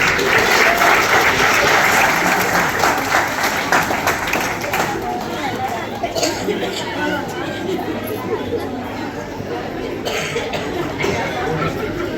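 Audience at a church wedding-themed skit breaking into loud, sustained applause and clapping, with crowd chatter mixed in, fading gradually over several seconds.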